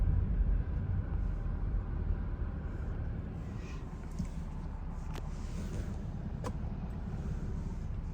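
A car rolls through a quiet residential neighborhood, heard from inside as a low, steady road rumble and engine hum, with a few faint clicks and no talk.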